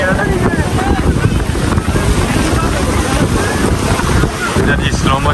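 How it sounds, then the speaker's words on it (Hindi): Big sea waves surge at Karachi beach in a continuous loud wash of surf, heavily buffeted by wind on the microphone, with crowd voices faintly mixed underneath. "बड़ी लहर आ रही है, आ रही है"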